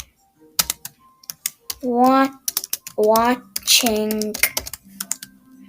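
A computer keyboard clatters in quick, close bursts of typing and key presses, ending with a press of the Enter key, while a young voice talks between and over the keystrokes.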